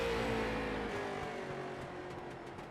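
A stock race car at Lanier speedway running a qualifying lap, its engine droning steadily at a distance and slowly fading as it moves away, with no talk.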